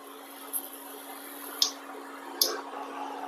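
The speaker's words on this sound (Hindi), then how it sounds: "बराबर चलाते हुए पका लिया है, गाढ़ा होने लगा है।" Thick amla (Indian gooseberry) candy mixture is stirred in a kadhai on an induction cooktop, giving a few quiet, soft sticky squelches and faint ticks against a low hum.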